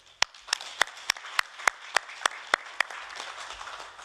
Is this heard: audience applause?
yes